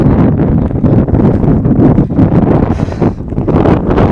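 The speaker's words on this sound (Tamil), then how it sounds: "ஜிலு ஜிலு ஜிலு ஜிலு ஜிலுன்னு காற்றடிக்குது" Strong wind buffets the microphone in loud, continuous gusts on the hilltop of Piran Malai, roaring and rumbling throughout with no other sounds standing out.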